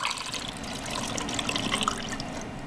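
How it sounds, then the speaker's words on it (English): Dissolved Campden tablet solution is poured into red wine made from concentrate, a continuous close splashing trickle of liquid with no talking. "I'm going to go ahead and pour it in here now"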